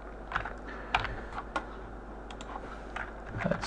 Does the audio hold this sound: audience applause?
no